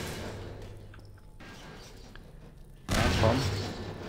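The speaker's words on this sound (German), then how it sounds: "Sehr schön, die meisten sind explodiert." A loud, broad explosion erupts late in a Half-Life 2 firefight, a dense rumbling blast that follows a few seconds of quieter ambient game noise and faint distant impacts, with no voice over it.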